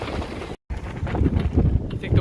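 Strong gusty wind of 20 to 30 mph buffets the microphone during a bikepacking ride on a dirt road, making a loud, steady roar that briefly cuts out.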